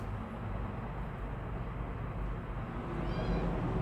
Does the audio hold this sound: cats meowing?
yes